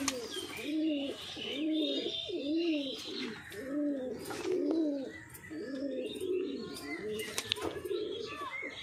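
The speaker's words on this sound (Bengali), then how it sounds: "মাদি পায়রা আছে, তো যার প্রয়োজন সে নিতে পারো, পাকিস্তানি ব্রিড" A female Pakistani breed pigeon coos close by in a steady series of rolling, repeated coos, with faint chirps and other bird calls in the background.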